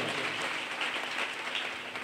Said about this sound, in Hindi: ताली बजाएंगे प्रभु के लिए।